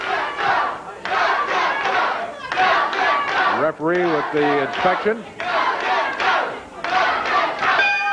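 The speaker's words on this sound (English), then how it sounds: "Go, Jeff, go, says the crowd." Wrestling fans at a USWA TV match roar and chant in rhythmic bursts for Jeff Gaylord, a loud, dense crowd with a commentator's voice over it.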